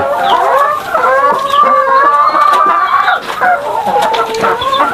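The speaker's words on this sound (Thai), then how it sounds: "ไก่ เป็นไก่อารมณ์ดี" Free-range chickens cluck loudly and continuously close by, overlapping calls rising and falling in a busy farmyard chorus with no talking.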